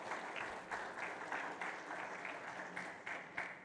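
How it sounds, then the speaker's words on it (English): An audience at a logistics awards summit applauds, a steady wash of clapping with rhythmic pulses, moderately quiet and even throughout, with no talk. "A round of applause for him, please."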